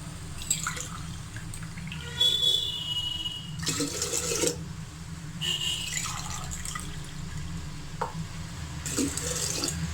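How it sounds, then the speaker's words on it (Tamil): Water and milk are poured from tumblers into a cooking pot for sweet pongal, several separate splashing pours of a few seconds each with quiet dripping between, close and loud over a low background hum. "ஒரு நாலு டம்ளர் நான் ஊற்றுறேன்"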